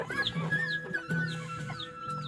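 Backyard hens, including free-range local chickens kept alongside rabbits, clucking in short repeated bursts close by, several soft calls overlapping against quiet surroundings.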